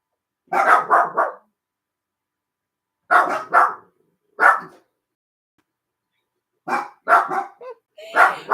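A dog barks in short bursts of two or three loud, close barks separated by pauses, with no talk over it.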